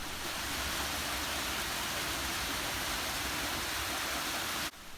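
A waterfall gives a steady, full roar of falling water, loud and unbroken throughout and cutting off just before the end.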